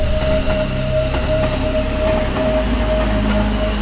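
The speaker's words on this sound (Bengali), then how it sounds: "ট্রেন এসে পড়েছিল" A train rolls in with a heavy, steady rumble and a sustained high metallic wheel squeal, loud and close throughout.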